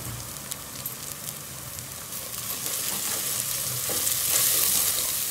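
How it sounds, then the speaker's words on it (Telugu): Ginger, turmeric and onions fry in hot oil in a pan, a steady close sizzle that swells slightly louder toward the end, with no talking. "ఇట్లా అల్లం, పసుపు, ఉల్లిగడ్డలు మంచిగా వేగిపోయినాయి."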